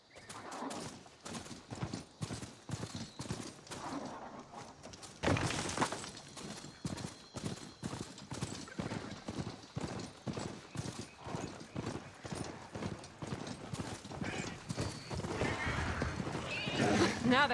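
Rhythmic hoof-like footsteps of a ridden machine mount in Horizon Forbidden West, a steady quick clip-clop pattern running throughout, with a burst of louder noise partway and a voice talking over parts of it.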